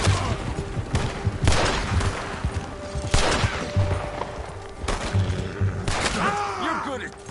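Gunshots crack in Red Dead Redemption, a handful of loud, spaced blasts with thuds and echoes, while characters' voices speak between and under the shots.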